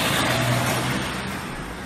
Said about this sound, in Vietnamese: mình phải đợi ô tô chạy qua để mình lấy xe này